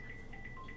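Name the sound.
phone notification sound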